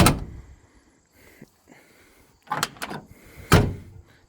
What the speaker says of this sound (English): Decent shutting doors.